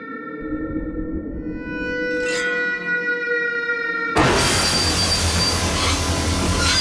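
A film scene from Sholay has a train whistle standing in for the murder of the Thakur's family. A sustained, tonal whistle sounds for about four seconds, then gives way abruptly to a loud, dense roar of a passing train.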